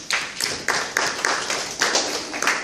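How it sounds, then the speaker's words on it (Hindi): Audience at a nature-cure health lecture clapping together, a burst of sparse, uneven handclaps with a few distinct peaks, moderately close and without speech. "बहुत बढ़िया, ताली बजाइए इनके लिए।"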